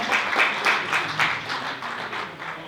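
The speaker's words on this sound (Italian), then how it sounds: "Ringraziamo anche l'amministrazione comunale di Ghilarza, facciamo un grande applauso" An audience applauds the municipal administration of Ghilarza at a December celebration event, steady dense clapping with rhythmic swells, fairly close and continuous throughout.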